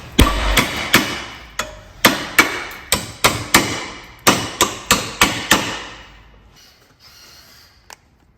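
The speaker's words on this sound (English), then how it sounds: "we'll try a splitter on this because we can't get it off" A hammer strikes a splitter to free a stuck part during engine removal on a Mini R53. About a dozen loud, sharp metallic blows land at a steady rhythm, each with a short ringing decay, then a quiet pause and one lighter tap.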